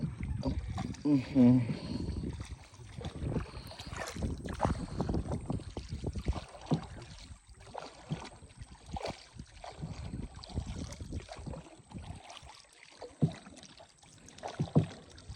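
Oars splash and creak as a small boat is rowed while fishing, with water lapping and wind noise, and a person talking at times.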